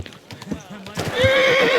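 A horse in the medieval game Kingdom Come Deliverance 2 clops its hooves, then lets out a loud, rising whinny that carries to the end, with a voice briefly heard beforehand.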